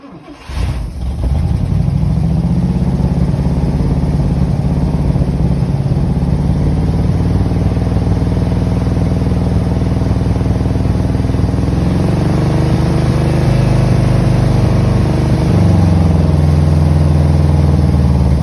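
A 1959 DeSoto engine revived from a junkyard cranks and catches, then runs loud and close with a steady rumbling idle, its pitch shifting slightly as the throttle changes.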